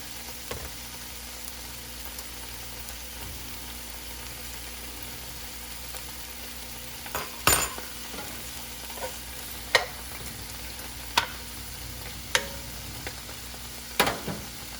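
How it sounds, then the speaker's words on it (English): Vegetables sauté in a pan for a healthy breakfast, with a low, steady sizzle running throughout, broken by several sharp clinks and scrapes of a utensil against the pan in the second half. "I have my vegetables right here, so I'm gonna add that just to saute a little bit."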